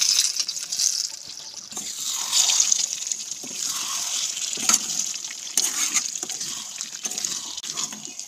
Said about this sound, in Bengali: এখন একটা ছাঁকনির সাহায্যে এই ঘিটা আমি ছেঁকে দিয়ে দেবো।